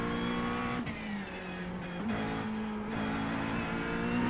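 Race car engines drone and shift pitch as a Corvette and a BMW battle closely on the Nürburgring Nordschleife in a realistic VR racing game, with a steady loud roar and brief gear-change dips.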